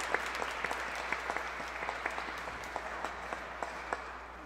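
Warm applause from a church congregation at a Sunday mass for a newly baptized child, moderately distant with a steady patter of claps and a few sharper individual ones, fading slightly toward the end.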